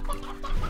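Chickens in the video game Slime Rancher, a quick burst of short clucks heard close and clear over a low steady background hum.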